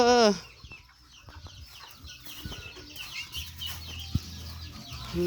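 Farmyard chickens cluck and call softly at a distance, with wing flaps and scattered rustling, while a voice speaks briefly at the start over the quiet rural background.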